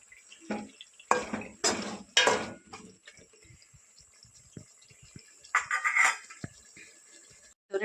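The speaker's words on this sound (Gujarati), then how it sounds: "તો ફ્રાય કરેલી મચ્છી છે ને એમાં એડ કરી દઈશું અને સાવ ધીરે હાથે ફેરવી લઈશું." Fried fish being gently turned into masala in a pan on the gas stove, with a few soft scraping and clinking spoon strokes in bursts, moderately close and fairly quiet, with pauses between.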